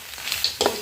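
Venison fry with ginger-garlic, green chilies, curry leaves, coriander and cumin powder being stirred in a pan, a short burst of close sizzling with a couple of scraping strokes, no talk.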